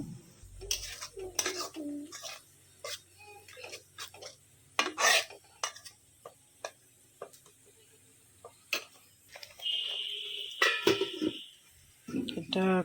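A lid goes onto a cooking pot during chicken curry prep with clinks and metallic knocks among scattered kitchen clatter, while a voice talks quietly between the sounds.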